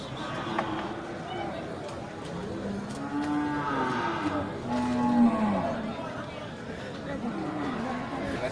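Cattle low in several drawn-out moos at a busy livestock market in Geurugok, where large jumbo cows are on sale, with a crowd murmuring and people talking throughout.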